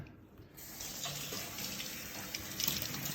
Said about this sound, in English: rinse out the basket